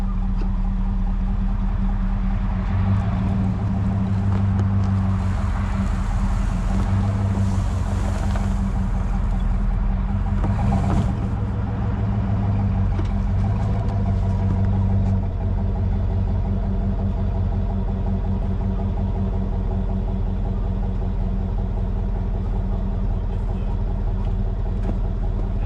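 A tow rig truck drives along with a steady low engine drone and road rumble that stays constant throughout, heard from inside the cab.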